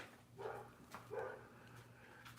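A dog gives two barks about a second apart, moderately close and fairly faint, over a steady low background hum.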